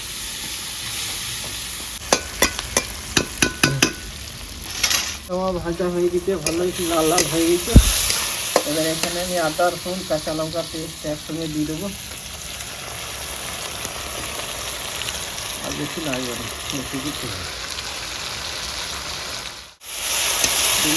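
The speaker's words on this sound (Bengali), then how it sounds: "শুকনো লঙ্কা গোটা জিরে এখানে ডালচিনি লবঙ্গ ছোটো এলাচ দিয়ে দেবো কেটে রাখা পেঁয়াজ" Whole spices such as bay leaves, dried red chillies, cumin, cinnamon, cloves and cardamom frying in oil with chopped onion added, a constant loud sizzle with stirring clatter and a sharp tap, while a voice speaks over parts of it.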